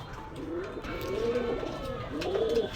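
Male Pakistani high-breed pigeons with red necks cooing in a repeated, rolling rhythm, close by and steady, with faint background noise and no talk.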